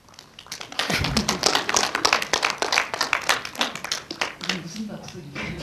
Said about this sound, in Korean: 무슨 박수예요?